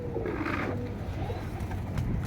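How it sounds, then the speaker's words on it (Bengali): Domestic pigeons, let out after ten to fifteen days kept in because of rain, coo close by in soft, throaty, repeated calls against a low background murmur. "10-15 দিন পর ছাড়লাম কবুতরগুলোকে।"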